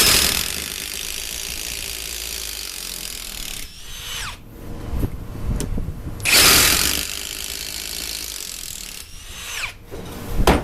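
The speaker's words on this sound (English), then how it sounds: "so you can go ahead and use it on an impact driver as well" A Milwaukee M18 Fuel impact driver runs in loud rattling bursts, hammering for a few seconds, pausing, then starting again several times, close up with no talk.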